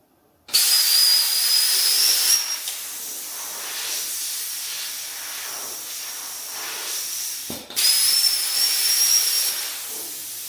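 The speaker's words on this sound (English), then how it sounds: "I've never used this plasma cutter before, so we'll see how it goes." A plasma cutter cuts car body metal on a drag-and-drive Camaro build, giving a loud, close, rushing hiss in two bursts with a brief break between them.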